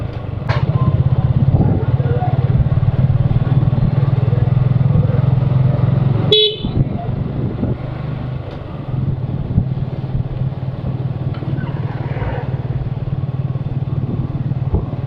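A motorbike rides along a riverbank road, its engine droning steadily up close, with a short horn toot partway through and the engine carrying on afterward.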